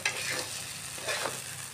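Green banana peel mixture is stirred and fried in a pan, giving a soft sizzle with scraping stir strokes near the start and again toward the end, with no talking.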